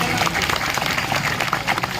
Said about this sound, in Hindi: इनका भी जोरदार तालियों से स्वागत करो भैया लोगों का